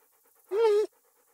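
A dog pants once in Kingdom Come: Deliverance, a short breathy huff close by, quiet and alone in a near-silent scene.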